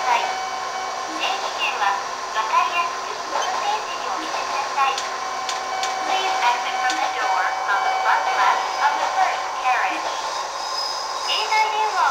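An Eizan Electric Railway one-man train in a Switch railway video game, a steady mid-pitched running hum with rail rumble and faint clicks, continuous and fairly loud throughout, with an onboard announcement voice running over it.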